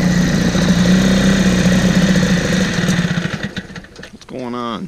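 A 4hp Eska outboard motor runs at a loud, steady idle with a throbbing mid-low hum close by, then sputters down and shuts off near the end while someone speaks.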